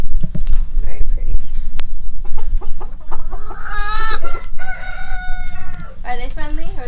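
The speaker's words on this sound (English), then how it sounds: "these are the all black chickens inside and out" Backyard chicken farm flock, including all-black chickens and a rooster, clucking and crowing loudly nearby, with repeated rising calls and a drawn-out crow over constant background chatter and movement.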